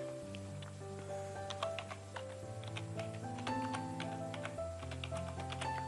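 Quick, light keystrokes tap on a computer keyboard in an irregular burst while a password is entered, close and fairly quiet, with no talking.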